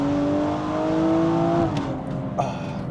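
BMW M135i with a stage 2 tuned N55 engine making about 405 hp, droning steadily under throttle as revs climb, then lifting off to a quieter burble, close and clear with no speech.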